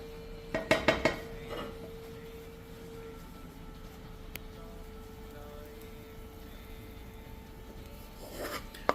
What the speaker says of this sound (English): I'm going to switch off the stove and I'm going to empty it in a Pyrex dish